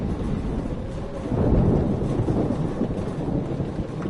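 A heavy thunderstorm with steady rain in the video game Life is Strange: a continuous dense roar of rainfall with a low rolling thunder swell in the middle, loud and enveloping, with no voices.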